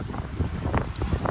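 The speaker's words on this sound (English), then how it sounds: "It was just really windy. It's gusty." Blustery wind buffets the microphone in uneven gusts, a low rumbling roar that rises and falls with no voices present.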